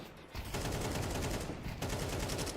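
Pistol shots in Counter-Strike 2 during a match, heard as dense, rapid, quiet crackling bursts of gunfire, starting after a brief lull and continuing with a short dip partway.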